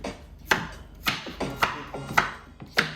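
A knife chops through plantain on a board in five evenly spaced, crisp strikes, each landing with a short woody knock, close up and alone.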